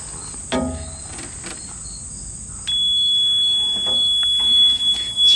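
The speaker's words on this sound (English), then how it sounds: "As you can hear, there's a bit of an alarm that sounds when 12-volt power is in the system." A high, steady electronic alarm tone sounds continuously from an electric mini truck once a 12-volt jumper pack is connected, with a second tone joining partway through and some brief clatter near the start.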